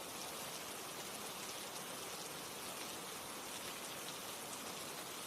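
Steady rain falls without pause, a dense, even hiss of drops that stays constant from start to finish, with no voices or other sounds.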